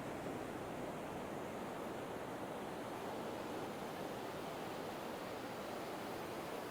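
Steady, broadband wash of ocean surf on a beach at night, a constant rolling roar with no distinct breaks, fairly faint and without voices.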